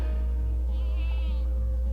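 Kiko goats bleat in a pasture with one drawn-out, wavering cry over a steady low hum.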